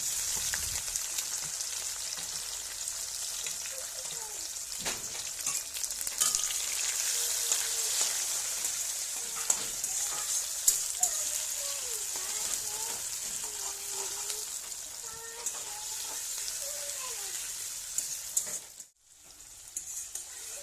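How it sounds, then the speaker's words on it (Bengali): Raw chopped onions and tomatoes fry in oil, giving a soft, steady sizzle with scraping stir sounds throughout, fairly faint and close, before a short drop near the end. "কাঁচা পেঁয়াজ এবং টমেটো সব ভাজার জন্য দিয়ে দিলাম সেই তেলের মধ্যে"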